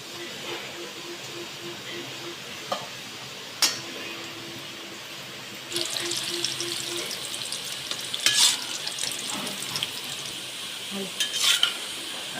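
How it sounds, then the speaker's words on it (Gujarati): Rolled Kathiyawadi cluster bean rolls fry in hot oil with a steady sizzle that swells louder midway, punctuated by occasional utensil clinks against the pan. "હવે આને આપણે તળી લેવાની છે"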